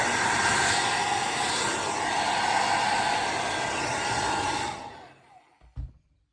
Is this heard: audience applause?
no